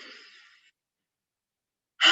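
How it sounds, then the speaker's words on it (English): A seated yoga breathing exercise with an audible breathy "ha" exhale through the mouth, one fading breath, a silent gap, then a second louder, sharper exhale starting. "You'll make a bit of a ha sound as you breathe out."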